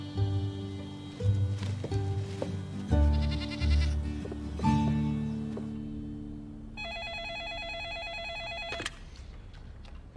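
A goat bleats several times nearby, followed by a telephone ringing in repeated bursts.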